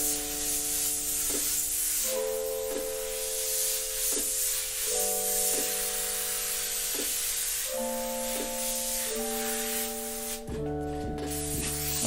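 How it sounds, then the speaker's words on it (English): Airbrush paint spray hisses continuously for about twelve seconds, close and steady, while background music with shifting sustained chords plays underneath. "Can I make a song with my airbrush?"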